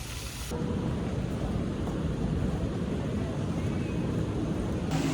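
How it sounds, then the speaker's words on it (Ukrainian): Steady rain pours down on a city street in Paris near a triumphal arch, a dense continuous wash of drops that stays loud and even throughout with no other clear sounds. "І дощ ніби не заважає."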